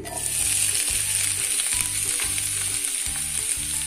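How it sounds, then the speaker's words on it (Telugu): Pieces of bitter gourd fry in a generous amount of hot oil, giving a loud, steady sizzle with light stirring, and no one speaks. "ఇది ఇలా కలుపుతూ ఫ్రై చేసుకోవాలండి"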